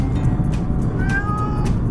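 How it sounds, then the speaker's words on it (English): A cat meows repeatedly over a constant low rumble, like an engine droning in the background. "And then he meowed some more when I let him out again."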